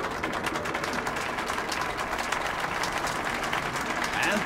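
A crowd applauds at an exhibition show in the video game Metro 2033 Last Night Redux, steady dense clapping that holds at a fairly loud, even level throughout.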